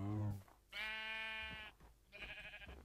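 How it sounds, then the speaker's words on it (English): Two drawn-out sheep bleats from a video game, sounding close and loud, with a short gap of game ambience between them and a brief noise at the start. "do you just want to go ahead and shear these sheep?"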